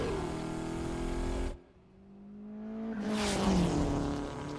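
In Need for Speed Unbound, a car engine holds a steady drone, drops away briefly, then revs back up loudly with a rising whine.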